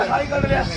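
A goat bleats at a village goat market in Harike Kalan, Punjab, a short nasal cry mixed with the voices of traders bargaining nearby.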